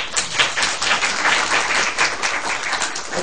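An audience in a lecture hall claps together, a dense, loud wash of applause that holds steady for a few seconds without talk.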